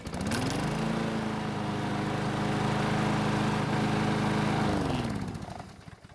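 Troy-Bilt lawn mower engine with a new carburetor catching after priming, running at a steady loud chugging idle for about five seconds before winding down and stopping.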